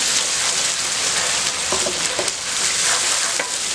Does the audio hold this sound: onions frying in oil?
yes